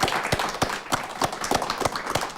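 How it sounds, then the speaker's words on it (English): A studio audience claps in applause, a fairly close, steady run of individual claps at a brisk rhythm. "Let's just give them a round of applause because they're with us today."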